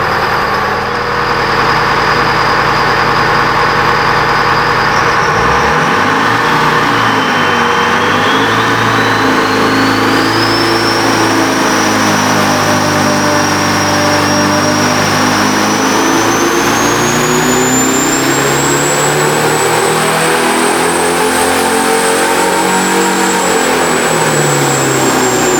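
An electronic Detroit Diesel 453 diesel engine on a dynamometer pull, loud and close, with a steady drone that climbs in pitch and revs under load, a rising turbo whine sweeping upward through the run.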